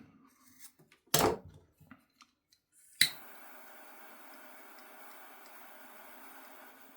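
Scissors snip through the leftover ends of a 550 paracord lanyard, one sharp cut that trails off, followed by a click and a steady low hiss in a quiet room.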